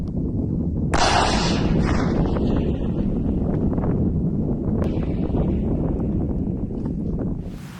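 A sharp, loud blast from a controlled detonation of explosive ordnance hits about a second in, followed by a long rumbling roar and gusting wind that slowly fade out.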